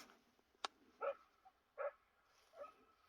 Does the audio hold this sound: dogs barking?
yes